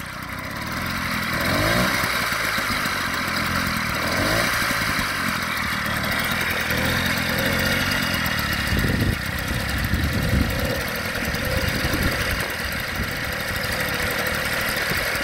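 A Peugeot 103 moped engine runs at a steady, buzzing two-stroke idle, loud and close throughout with slight fluctuations in pitch and no talking.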